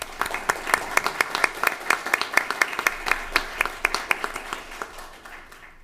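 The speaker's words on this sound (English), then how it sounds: "So round of applause for all of your efforts." A town council meeting audience claps together for committee members, a steady round of applause with fairly close, evenly spaced claps that fades out at the end.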